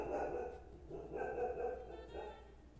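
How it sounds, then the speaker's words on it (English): A dog lets out three separate barks, each a short burst at even intervals, close by and fairly quiet, with no speech over them. "My dog agrees."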